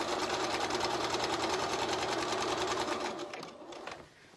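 A sewing machine runs steadily as it stitches around the edge of a fabric cosy cover with piping, its fast rhythmic whirr holding close and loud before slowing and winding down near the end.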